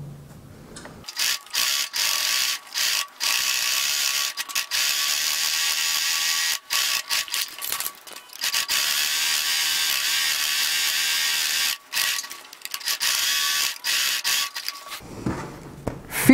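A sewing machine stitches close along the edge of a fabric pot cover, with long runs of rapid, rattling mechanical stitching broken by short pauses, heard near and alone.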